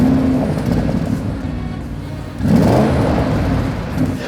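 Engine of a 2021 Audi SQ7 rising in a rev, a loud close whirring roar that swells after a brief dip.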